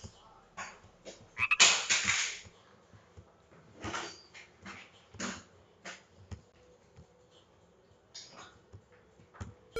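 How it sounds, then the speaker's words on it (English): A cartoon frog croaks in a run of short, repeated calls at an irregular rhythm, one louder burst near the start and softer calls after, close and clear with no talk. "My friend Bartley the Frog is about to join us too"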